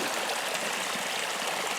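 Fresh mountain stream water flows steadily on Mount Lawson, a continuous close, broadband rushing and gurgling that holds at an even level throughout with no voices.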